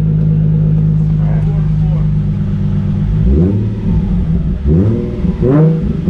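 A Nissan 350Z HR with a full titanium Tomei exhaust idles with a loud, deep drone, then gives three short revs that rise and fall. Voices talk faintly in the background.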